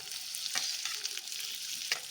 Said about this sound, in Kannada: ಸ್ವಲ್ಪ ಈರುಳ್ಳಿ ಟ್ರಾನ್ಸ್ಪರೆಂಟಾಗಿ ಫ್ರೈ ಮಾಡೋಣ